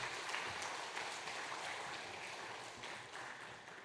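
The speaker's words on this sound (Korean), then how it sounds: "우리 목사님 나오실 때 박수로 환영하도록 하겠습니다." A church congregation claps to welcome the pastor at a Sunday Korean service, a soft, diffuse patter of applause heard from a distance that gradually tapers off.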